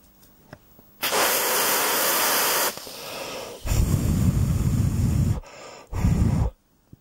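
Aerosol freeze spray is sprayed onto a chip inside a Samsung TV in three loud, close hissing bursts: a long first spray, a second of similar length and a short final one.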